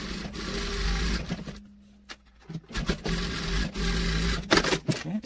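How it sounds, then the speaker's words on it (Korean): A sewing machine stitches a jacket in a rapid, steady whirring run, stops briefly around the middle, then starts again with uneven bursts of stitching and some handling noise. "한 번 더 박음질 해주세요"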